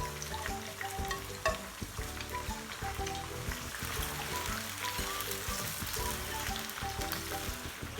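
Tomatoes go into a pot of frying chicken for Sindhi biryani, giving a steady close sizzle with stirring scrapes and bursts of crackle that run continuously without talk.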